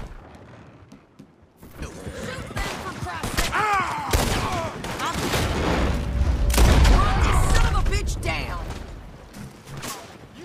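Gunfire in Red Dead Redemption 2: loud bursts of shots and booming blasts in a chaotic shootout, rising in intensity midway, with voices shouting over the fighting.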